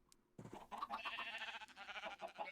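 Sheep bleat in the Minecraft video game, a short wavering bleat rising after a brief quiet start, close and fairly loud, with no talking.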